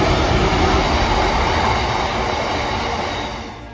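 A train rumbles loudly and steadily past the platform at Brighouse railway station, the noise easing slightly toward the end.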